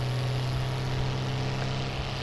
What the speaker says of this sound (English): I like the sound this tractor makes